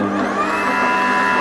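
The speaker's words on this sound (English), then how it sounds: "So let's juice. Turn on our machine." An electric juicer runs steadily while juicing celery, giving a loud, continuous motor whine with a constant droning tone and no talking over it.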